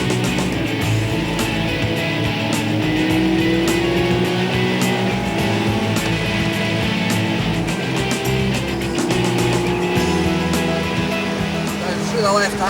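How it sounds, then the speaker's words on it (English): A car on a track with heavy carburetor noise, a loud sustained engine drone with shifting pitch heard from inside the cabin, while someone talks over it throughout. "A lot of carburetor noise coming through the car."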